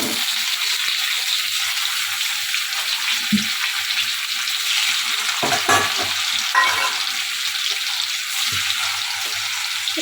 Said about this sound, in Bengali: তো পনিরটা এবার ভাজি।